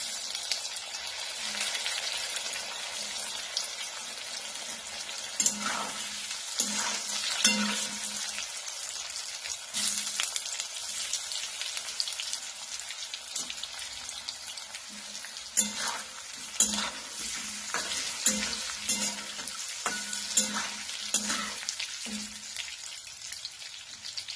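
Cumin seeds frying in oil in a pan over low heat, made while preparing Maharashtrian alu vadi: a continuous close crackling sizzle with scattered pops and occasional stirring scrapes, steady throughout, no talk.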